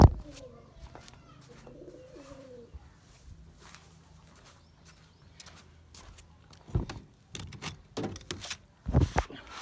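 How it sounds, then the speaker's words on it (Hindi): Domestic pigeons cooing in a loft, with soft low throaty coos in the opening seconds, followed by louder bursts of wing flaps, knocks and clatter toward the end. "ये कबूतर है माशाल्लाह।"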